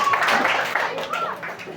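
A church congregation claps together during a Sunday service, a brief burst of loud applause that tapers off within seconds, with voices mixed in.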